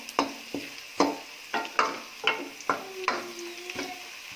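Pumpkin pieces browning in oil for chapni pumpkin, with a quiet sizzle under about eight sharp, evenly spaced clinks and scrapes of a spoon stirring in the pan.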